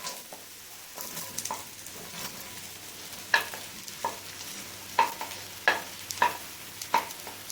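Onions dropped into hot oil for chicken karahi, a soft steady sizzle under repeated sharp clinks and scrapes of a spoon against the pan, no talking.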